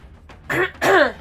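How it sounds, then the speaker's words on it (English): Two quick, raspy throat clearings, the second stronger and longer, close to the mic with no talking. "can't believe I'm already having to clear my throat"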